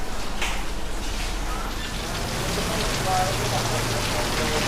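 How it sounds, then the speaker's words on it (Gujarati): Heavy rain pours down steadily in a continuous, dense hiss of drops hitting surfaces outside an ATM, loud and unbroken throughout. "ફૂલ વરસાદ પડી રહ્યો છે"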